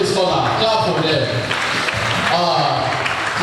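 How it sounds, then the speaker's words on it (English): A crowd claps for university scholars at an anniversary ceremony, a steady wash of applause, while a voice keeps talking over it. "A round of applause for them, please."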